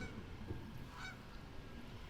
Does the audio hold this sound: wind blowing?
no